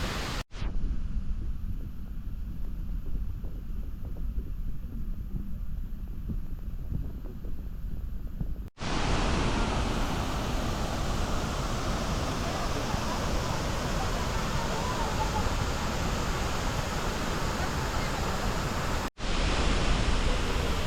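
Steady broadband rush of a waterfall at Hidden Falls, Hulugan Falls in Luisiana, Laguna, continuous and loud, broken by two abrupt cuts, with no talking.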